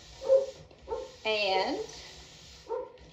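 Dogs bark repeatedly and fairly near, in short sharp yelps and a longer whining bark, while a person talks over them.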